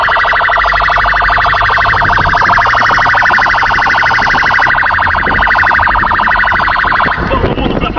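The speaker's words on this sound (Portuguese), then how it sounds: "Liga a sirene." A loud siren wails continuously and close, filling the scene with a steady rising and falling electronic tone and no pause, with no talking over it.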